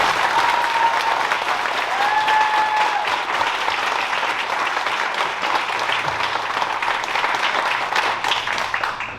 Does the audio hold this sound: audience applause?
yes